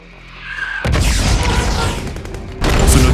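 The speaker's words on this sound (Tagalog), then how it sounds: "Sunod-sunod na pagsabog ang yumanig sa paligid" Mortar rounds go off one after another near a main building during a night attack on a compound in Benghazi. A quiet lead-in gives way to a sudden heavy blast, a long rumbling roar, then a second loud blast.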